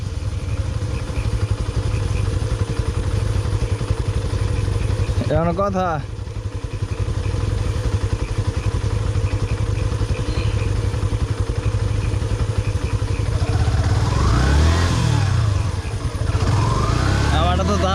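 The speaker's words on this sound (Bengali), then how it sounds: "আমার বাইক আটকে পড়ছে।" A motorcycle stuck on a muddy road drones steadily and loudly, with its engine swelling and revving as it strains, while people talk over it.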